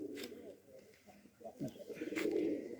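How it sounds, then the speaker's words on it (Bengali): Rajshahi pigeons coo softly in a short burst that rises toward the end, and a faint voice can be heard in the background. "এই দেখেন রাজশাহী সবজি কবুতর,"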